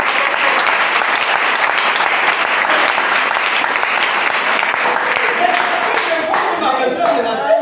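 A church congregation applauds in a dense, loud, continuous wash of clapping that fills the room, with voices calling out within the crowd toward the end.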